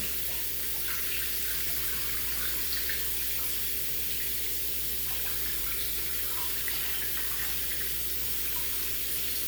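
A faucet runs steadily and loudly, water splashing into a sink and over strawberries being rinsed beneath it, continuous throughout with no talking.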